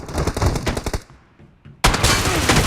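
Rapid automatic gunfire in the mobile battle royale game PUBG Mobile rattles in a loud burst, pauses briefly, then resumes as dense, sustained shooting.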